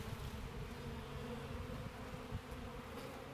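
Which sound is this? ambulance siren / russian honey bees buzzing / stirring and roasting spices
russian honey bees buzzing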